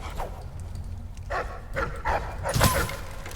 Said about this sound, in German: wer hat einen Hund rausgelassen?